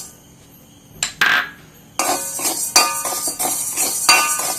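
Roasted lentils being scraped from a pan into a vessel, a string of loud metallic clinks and scraping rattles, close up, with brief quiet pauses between bursts.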